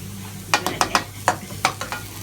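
Garlic frying in a pan over medium-high heat for seafood ee fu noodles, a steady sizzle broken by a run of sharp utensil scrapes and taps against the pan, close and fairly loud, with no talking.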